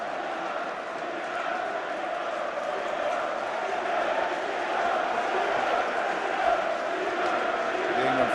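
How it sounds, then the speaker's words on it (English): A stadium crowd of England fans at a Euro 96 football match against Scotland applauds as injured Redknapp is carried off, a steady broad roar of clapping and cheering, with a commentator talking over it. "The England fans on that side of the field as Redknapp's being carried away, giving him a tremendous round of applause"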